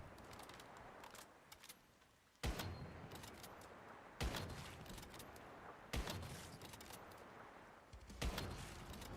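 Sniper rifle shots in the video game Once Human: four loud, evenly spaced booming blasts about two seconds apart, each with a sharp attack and rumbling tail over a dense, noisy game backdrop.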